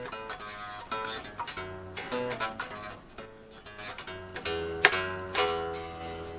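A bass guitar plays the short ending riff of a song, a plucked riff of distinct notes in a loose rhythm, fairly quiet and alone with no talking.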